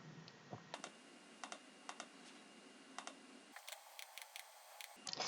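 Computer keyboard keys, spacebar among them, tap in a sparse irregular rhythm of crisp clicks, close but quiet, while editing in Photoshop; nobody speaks.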